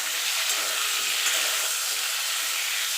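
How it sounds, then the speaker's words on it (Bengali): Ridge gourd and tomato sizzle in a frying pan as they are stirred, a steady, even crackle of moderate loudness with no voices. "ঝিঙেটা দিয়ে মিনিট খানেক একটুখানি নাড়াচাড়া করে নেবো"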